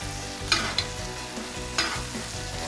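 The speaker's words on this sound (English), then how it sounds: "Make sure you give your steak a nice butter bath." Steak fries in a pan with melted butter, a steady close sizzle filling the whole stretch, with a few brief scraping or stirring knocks from a utensil.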